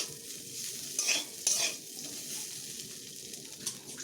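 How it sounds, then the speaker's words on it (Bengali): Semolina mixture with Maggi masala being stirred in a pan, soft scraping and faint sizzle running throughout, with a couple of sharper spoon-on-pan scrapes standing out, quiet and close, no talking. "ম্যাগি মশলা দিয়ে একটু মিশিয়ে নিচ্ছি"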